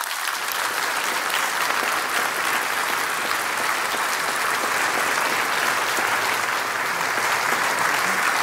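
Audience applause fills a conference room after Ban Ki-moon's speech on sustainable development at a Frontier event, a dense, steady wash of many hands clapping at even loudness throughout, with no voices over it.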